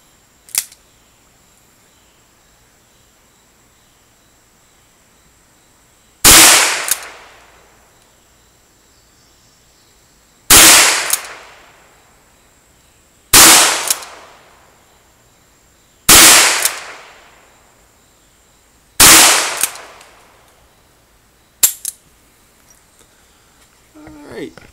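Ruger Single Six revolver fired outdoors at a target 12 yards away: six sharp, loud gunshots spaced a few seconds apart, each with a short ringing decay, against a quiet background with a faint steady tone.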